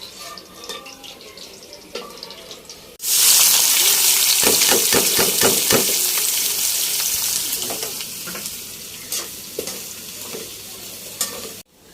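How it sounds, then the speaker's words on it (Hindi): Okra (bhindi) frying in a pan on a village stove, with a sudden burst of loud sizzling and repeated scraping stirs that settle into steady frying before cutting off. "तो जल्दी जल्दी भिंडी फ्राई हो गई है"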